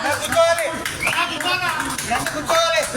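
An audience at a Samsung Galaxy S24 Ultra launch event in a mobile phone store claps in a crowded space, a dense patter of hands mixed with voices talking over it.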